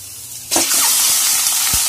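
Meat hits a hot pan and a loud sizzle bursts in, then holds as a steady, close frying hiss with small crackles.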